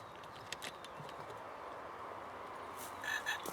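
A frog croaks in a few short bursts near the end, against steady outdoor background noise.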